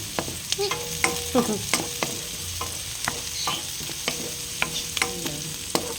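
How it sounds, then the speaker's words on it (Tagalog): Pork adobo ingredients, including labuyo chili, sautéing in a pan with a steady background sizzle and repeated sharp scrapes and clinks of a spatula stirring against the metal, close and moderately loud. "Gigisahin natin."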